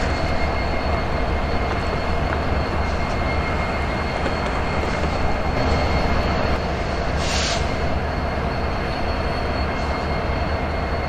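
A train rolls along the railroad in a loud, unbroken rumble of wheels and carriages that stays steady throughout, with no voices.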